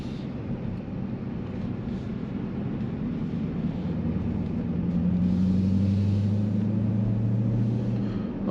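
A Dodge Durango Hellcat's engine gives a steady low rumble that swells into a louder droning tone midway, sounding like cruising heard from inside the vehicle on the Autobahn.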